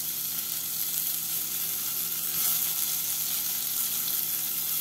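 Chopped bell pepper sizzles in a hot frying pan, a dense steady crackle close up with a faint stirring scrape partway through, no talking.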